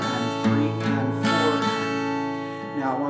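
Acoustic guitar strums a pop ballad verse pattern, with bass strings on beats one and three and treble strings on two and four, a clear alternating rhythm played up close with no talking.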